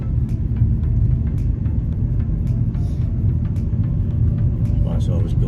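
Steady, heavy low rumble from inside a remapped BMW E91 330d diesel with DPF and EGR delete as it drives, constant engine and road drone with faint clicks and rustles in the cabin.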